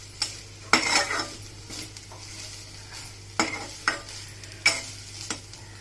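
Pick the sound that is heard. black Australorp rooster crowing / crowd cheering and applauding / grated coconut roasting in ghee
grated coconut roasting in ghee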